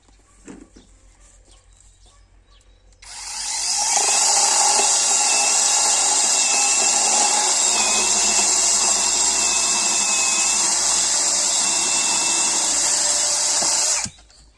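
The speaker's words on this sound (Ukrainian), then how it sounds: "Зараз спробую його попиляти." Quiet handling noises, then a Revolt BCS 20/8 cordless saw whines into a loud, sustained high-pitched cut through rotten wood lasting about ten seconds before stopping abruptly.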